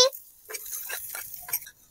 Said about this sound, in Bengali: আমি ব্রকলিটাকে ধুয়ে পরিষ্কার করে নিয়েছিলাম, এখন কড়াইতে দিয়ে দিচ্ছি